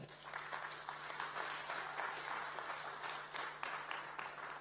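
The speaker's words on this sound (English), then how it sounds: "let's give him another round of applause" A conference audience applauds steadily, a dense wash of clapping from many hands that holds evenly throughout.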